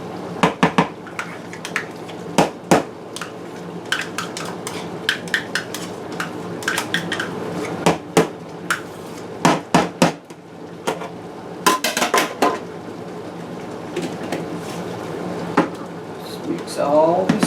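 Ingredients for fried chicken, including about half a cup of Hellmann's mayonnaise, being mixed in a bowl, with repeated sharp clinks and scrapes of utensil against the dish in uneven bursts, and a voice talking alongside.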